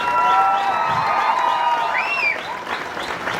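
A large audience at an event in Mangalore bursts into sustained clapping mixed with a few whistles and cheers, loud at first and easing off slightly toward the end.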